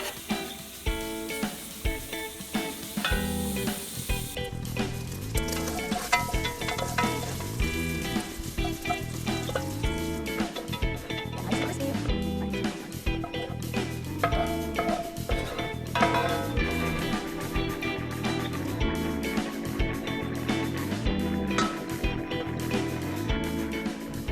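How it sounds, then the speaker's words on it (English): Chopped bacon sizzles and crackles loudly in a hot pan on the stove, with constant spitting fat and repeated scraping, stirring strokes coming in irregular bursts throughout. "First, we are going to cook the bacon."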